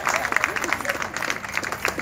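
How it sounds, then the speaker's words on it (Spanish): Audience clapping at a patronal festival proclamation event in Sonsonate, a dense patter of many hands close by, mixed with crowd noise and voices. "¡Aplausos, señores, por el Cipote Aquino!"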